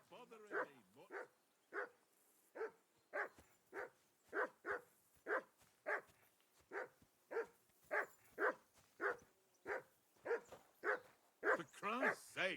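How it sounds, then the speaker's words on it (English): A dog in Kingdom Come: Deliverance II barks steadily and rhythmically, about twenty sharp barks at an even pace, moderately close, growing slightly more frantic toward the end. "Call off that damn dog before he wolfs down the last of our mates."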